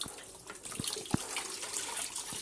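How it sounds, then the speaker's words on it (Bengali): Clothes being rinsed in a tub of water after a wash with Amway SA8 detergent: close, continuous sloshing and splashing with a few sharper drips and slaps of wet fabric. "আমি রাখলামও না, সঙ্গে সঙ্গে ধুয়ে তুলে দিচ্ছি।"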